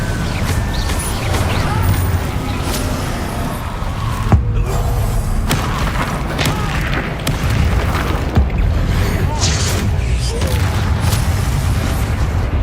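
Fire spell bursts and impacts from the Incendio charm in Hogwarts Legacy, a loud dense barrage of booms and crackles with repeated sharp hits throughout.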